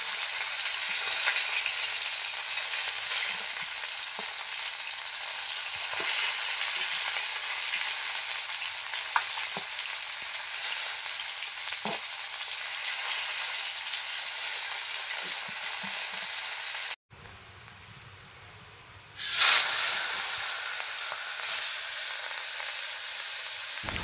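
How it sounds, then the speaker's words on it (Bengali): A snakehead fish head fries in oil with a continuous close sizzle and crackle, scattered pops throughout, a brief near-silent gap partway, then the hiss returns loud and bright with no talking. "এরপরে মাথাটাও ভালো করে ভেজে নিলাম।"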